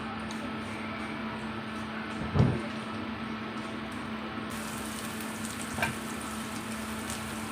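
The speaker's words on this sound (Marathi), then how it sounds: "त्याच्यामध्ये आपण लसूण आणि कांदा टाकून द्यायचा आहे" Garlic and onion frying in a pan with asafoetida, a steady low sizzle throughout, with a brief clatter of stirring near the start and another faint knock later.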